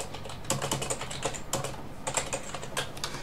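Typing on a computer keyboard during a Lubuntu 17.10 install, with close, crisp key clicks in irregular quick bursts and brief pauses, no talking.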